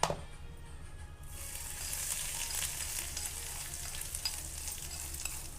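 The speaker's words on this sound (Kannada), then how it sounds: "ಈಗ ಇದಕ್ಕೆ ಒಗ್ಗರಣೆ ಹಾಕಿಬಿಡ್ತೀನಿ ನೋಡಿರಿ." Tempering of spices hitting hot oil for a North Karnataka raw corn chutney, an abrupt loud sizzle that settles into a steady, close crackling hiss with fine pops throughout.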